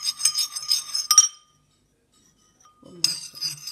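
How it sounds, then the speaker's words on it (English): A spoon clinks and scrapes against a glass while stirring vinegar and sugar, two short bursts of bright clinking separated by a silent pause. "you keep stirring."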